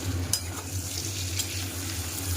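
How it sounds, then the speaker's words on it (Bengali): Washed, lightly salted dried fish (shutki) fries in hot oil in a wok, giving a steady, close crackling sizzle with a low background hum and no talking. "তার মধ্যে আমি আগে থেকে ধুয়ে রাখা শুঁটকি মাছগুলো দিয়ে ভালো করে তেলের মধ্যে ভেজে নেব"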